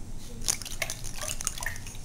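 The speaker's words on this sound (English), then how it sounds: "So, and basically, just stir it a bit." Silk gauze fabric being stirred in a coffee dye bath, giving soft liquid swishes and small drips that are close and quiet, with no voices.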